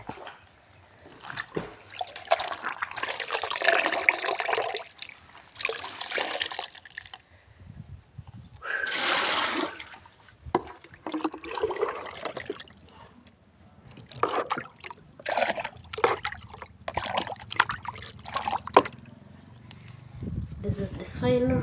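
Water trickles and splashes while a rainwater tank gets its final rinse, the flow rising and falling in uneven surges, with people talking throughout over it.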